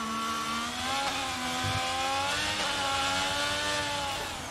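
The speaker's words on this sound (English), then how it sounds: "You could really hear those high revs in fourth gear." A Formula 1 car engine screams at high revs in fourth gear in the F1 22 racing game at Singapore, a loud, sustained whine that climbs and shifts pitch as it accelerates.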